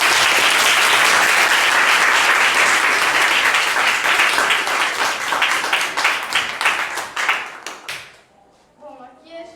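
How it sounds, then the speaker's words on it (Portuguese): A classroom of students at a school monarchy-versus-republic debate applauds Ana with loud, dense clapping that gradually thins into scattered claps and fades out, followed by voices talking. "Que palmas para Ana."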